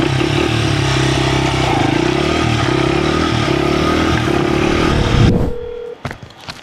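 A Honda trail bike motorcycle runs at a steady, loud idle-to-cruise drone up close, its engine note holding even before cutting off abruptly, followed by a few clunks and scrapes.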